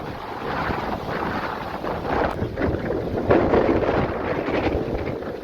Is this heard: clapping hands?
no